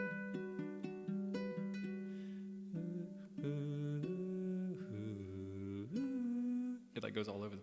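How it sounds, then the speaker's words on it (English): A chord strummed on a baritone ukulele, its notes ringing out in a sustained, close and clear sequence of plucked and strummed tones, with a voice speaking briefly near the end. "If I played the same chord on my baritone, it would sound like this."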